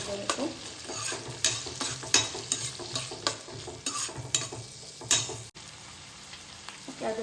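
Onions and tomatoes fry in a pan with a constant close sizzle, broken by repeated scraping stir strokes at an uneven rhythm, and no voices.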